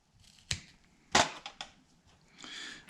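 Material for a one-handed guitar pick holder being cut, heard as a few sharp snipping crunches spaced irregularly over a few seconds, close and fairly quiet with no talking.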